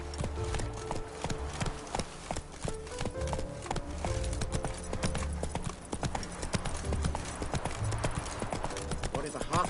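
Roach, the horse in The Witcher, gallops with a steady, loud clip-clop of hooves under game music and a speaking voice.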